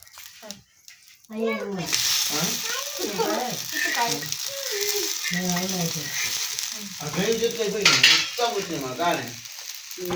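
A dosa (attu) sizzles in oil on a hot pan, a steady hiss running beneath continuous close conversation.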